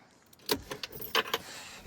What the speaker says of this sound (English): Okay, there are the keys.